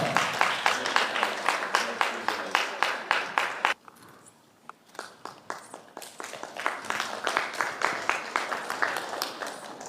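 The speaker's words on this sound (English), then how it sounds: "Let's clap for her" An audience applauds at a meeting of governors' spouses hosted by the First Lady, with steady, dense clapping that briefly thins into a short lull before swelling again.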